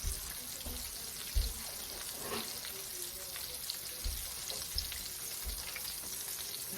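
Buttermilk-soaked, well-seasoned chicken fries in a pan on medium heat, giving a steady low sizzle throughout with a few soft bumps and clinks of tongs, no voices.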